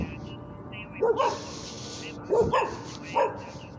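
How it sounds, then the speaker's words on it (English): Several neighborhood dogs bark in the distance, a few sharp, spaced barks over steady background noise and a faint murmur of voices. "He's got all the neighborhood dogs barking here."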